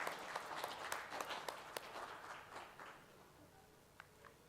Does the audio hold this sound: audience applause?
yes